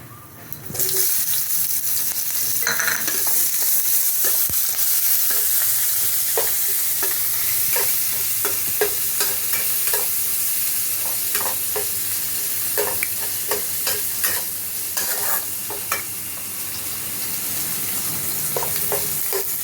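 Chopped onions fry in hot oil in a kadai with whole spices and dried chilli. A loud, steady sizzle runs close throughout, broken by frequent scraping and clinking as a utensil stirs, with no speech.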